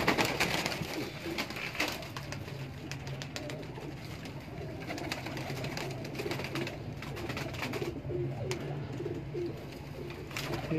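Pigeons kept by a breeder in the Delhi Gate area of inner Lahore coo softly and repeatedly in a steady low murmur, with light rustling and clicks from the loft and no talk.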